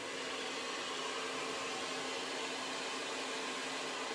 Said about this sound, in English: So I'm gonna set my dryer to medium, and then I can give it just a little bit more volume.